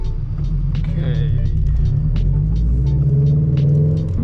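A Toyota GR86 running on E85 fuel cruises onto a parkway, a steady low engine and road rumble inside the cabin with a few light ticks and rattles, fairly loud and continuous.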